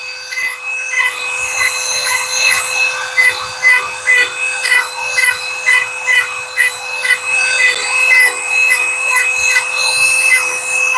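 A knife whittles shavings off wood, scraping in a steady, rhythmic run of close strokes, with no voices over it.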